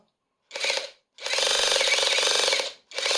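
A Revolt RG20/4.8 cordless rivet gun runs its hammer-tapping mode in rapid buzzing bursts, one short burst, then a long sustained rattling run, then another starting, loud and close with no talk.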